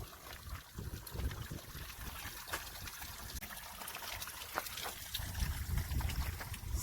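Water trickling and splashing in a small mountain stream near Pacific Crest Trail mile 181 at about 9,300 ft, a faint continuous babble with light bubbling detail.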